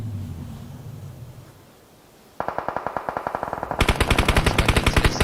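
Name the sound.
gunshots in a video game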